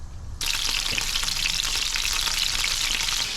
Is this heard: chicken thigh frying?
yes